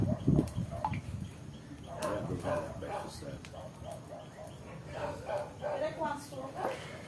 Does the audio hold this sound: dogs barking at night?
yes